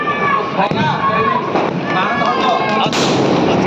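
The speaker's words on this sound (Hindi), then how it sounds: "ये कौन सा बम है ये बम है ना पेपर शॉट है" Paper shot firecrackers burst during Diwali celebrations in Chennai, loud sharp bangs and crackling close by, with people talking and shouting throughout.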